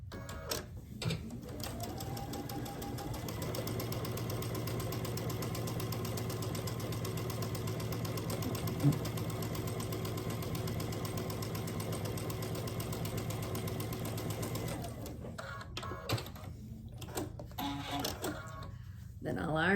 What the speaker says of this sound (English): So I'll take it to the sewing machine,